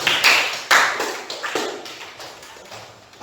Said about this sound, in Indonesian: Tepuk tangan buat kelompok jambu.